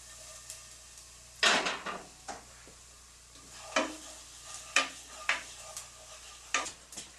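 Garlic cooks in a pan over medium-low heat, a faint steady sizzle running underneath sharp clinks and scrapes of a utensil against the pan, coming in irregular bursts close by.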